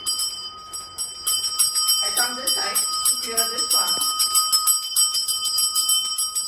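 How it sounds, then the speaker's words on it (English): A hand bell rings continuously with bright, steady metallic tones, while a person speaks briefly over the ringing. "If you see I'm continuously ringing the bell"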